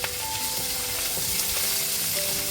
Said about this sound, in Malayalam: ഇനി ഇതിൻ്റെ എല്ലാം പച്ചമണം മാറുന്നവരെ നമുക്കൊന്ന് ഇളക്കി കൊടുത്ത് ഇതൊന്ന് മൂപ്പിച്ചെടുക്കാം